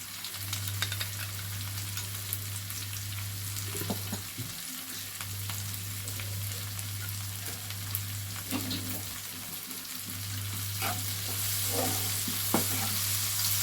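Yogurt, about two and a half spoonfuls, whisked in a bowl for an egg paneer curry: a steady scraping and stirring that runs the whole time over a low constant hum, with no voices.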